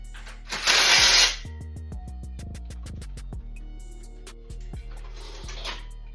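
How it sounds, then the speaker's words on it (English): Bolts on Ritfit M1 11-gauge upgraded rack uprights are tightened with a ratchet, giving rapid clicking bursts at close range, with a louder scraping rush at the start and another near the end. "Tighten it all back up."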